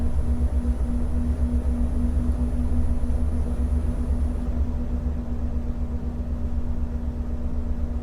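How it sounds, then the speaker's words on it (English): Steady low rumble of an EMD 710 diesel locomotive engine in the Train Simulator 2021 game, hauling BNSF coal to Barstow, a constant droning hum held at an even loud level throughout. "Oh, listen to that 710 rumble."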